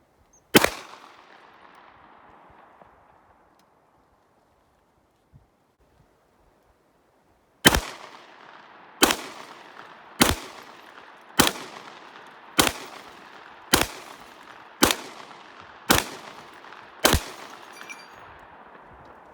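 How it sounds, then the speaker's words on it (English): A Kriss Vector fires into an old CRT television: one sharp shot, a long quiet gap, then eight evenly spaced loud cracks, each trailing off in a brief outdoor echo. "Let's fire a couple more rounds into it and move on to the second scenario."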